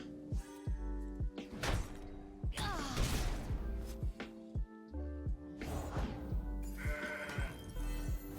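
A goat bleats amid busy card-game effects in Legends of Runeterra, with layered chimes, whooshes and thuds, and the cries rise over the dense, lively game audio.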